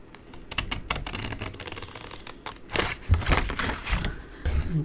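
Scissors cutting through gift box paper or card give a dense, steady run of close crisp snips and rustles, rising to heavier handling noises partway through.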